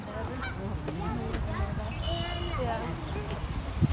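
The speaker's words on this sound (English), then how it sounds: "Look at the geese." Geese honk repeatedly in short nasal calls over steady outdoor noise, with people talking throughout.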